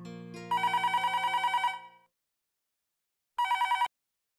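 A telephone rings with a bright electronic trill, one long burst of about a second and a half followed by a pause and a shorter second burst, loud and close with no voices.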